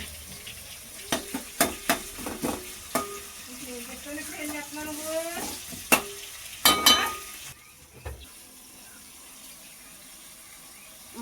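Chicken curry with masala being stirred and fried in a pan, a spoon scraping in sharp repeated knocks over a steady sizzle before the sound thins out near the end.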